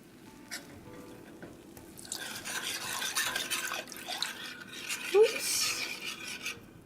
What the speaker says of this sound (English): We're going to gradually add the 2 cups of milk.